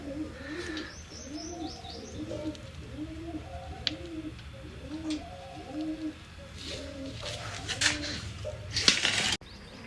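Red pigeons coo steadily at a home loft in a rhythmic run of soft, rolling calls close by, with faint chirps overhead and a brief rustle near the end.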